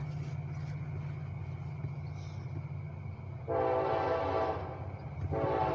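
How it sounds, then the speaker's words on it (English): A passing train rumbles steadily, then its horn blasts loudly in two long, harmonically rich bursts near the end, close and dominant over the low rolling noise. "Here comes a train."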